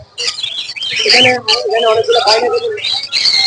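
A yellow lory parrot gives shrill, rapid chattering calls up close, bursts of squawks and chirps running almost continuously with only brief gaps.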